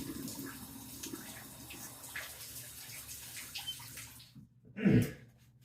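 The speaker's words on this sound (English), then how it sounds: "You might have heard that I flipped up the drain lever there and poured some more water for Sarge." Water from a faucet runs steadily into a bathroom sink with a soft rushing sound, then a brief louder splash of poured water comes near the end.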